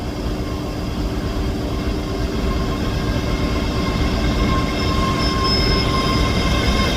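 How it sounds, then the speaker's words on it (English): A Scotrail service pulls into Edinburgh Haymarket station with a loud, steady rumble of wheels on rail, overlaid by a sustained high squeal and tonal whine from the train. "Arriving in now is the 11:20 Scotrail service from Edinburgh Waverley to Glasgow Queen Street."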